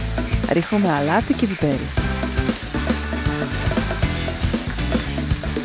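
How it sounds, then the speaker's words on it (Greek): Beef pieces sizzle and sear in a hot frying pan with garlic for a curry, a steady loud frying hiss under a voice talking about seasoning. "Μετά ακουμπάμε τα κομμάτια του κρέατος στο ζεστό τηγάνι, χωρίς το ένα να ακουμπάει στο άλλο."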